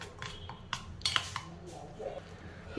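Spoon scraping and clinking against a bowl while tandoori chicken marinade paste is mixed with salt, a few light taps and stirs close by over a quiet background.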